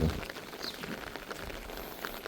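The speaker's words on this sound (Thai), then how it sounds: "ฝนก็มาตกปาด" Heavy overnight rain falls over rice paddies as a faint, even hiss with soft patter, heard alone for a couple of seconds.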